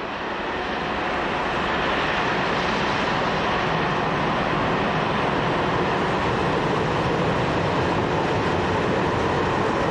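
Loud, steady rumble and roar of French CC 72000 electric-diesel locomotives passing, one hauling a Paris-Basel express and another heading a full hopper freight train, continuous and close for the whole stretch with no voices.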